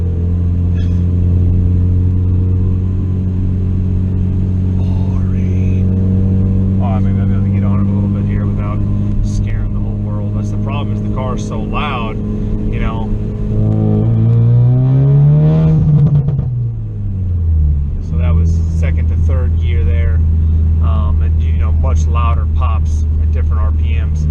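Low engine drone inside a 2016 Ford Focus RS with an aftermarket downpipe, steady rumble rising briefly as it revs, with someone talking over it throughout.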